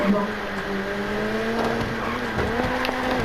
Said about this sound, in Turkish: Ay ay ay fena kayıyor araba.